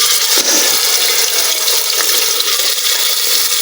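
Mutton pieces fry in hot oil in a pan for Peshawari mutton, giving a loud, continuous, dense sizzling hiss that holds steady throughout with no pauses.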